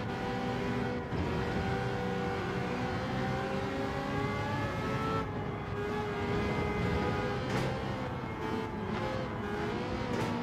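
Race car engine in Gran Turismo 7 on a tricky track with the car's default setup, revving hard and continuously with brief dips at gear changes, loud and close throughout.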